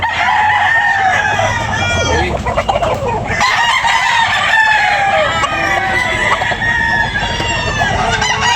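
Roosters crowing at a gamecock market early in the morning, several loud overlapping crows and clucks from nearby birds filling the scene, with a bustling background.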